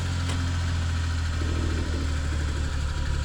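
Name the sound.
Suzuki Carry kei truck engine idling while warming up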